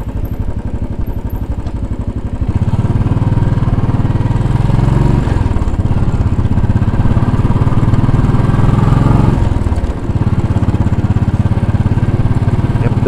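Royal Enfield Bullet 500 motorcycle riding through downtown New York City, its single-cylinder engine thumping loudly and continuously up close, rising in intensity after a couple of seconds with brief dips.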